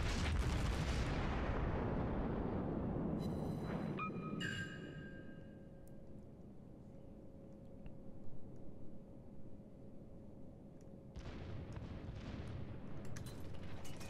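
Warship secondary guns in World of Warships fire a loud cluster of booming blasts near the start, followed by ringing tonal effects and a low rumbling sea-battle din that swells again toward the end.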